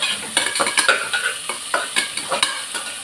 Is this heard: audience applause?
no